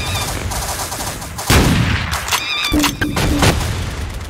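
Loud, close gunfire in the video game Apewar, a sharp burst followed by further shots and bangs, with little talk over it.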